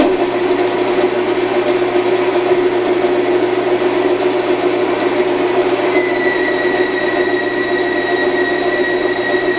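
A lathe hums continuously while taking light spring passes to bore the inside of a Troy-Bilt shaft, a loud steady machine drone with a thin tonal whine that rises partway through.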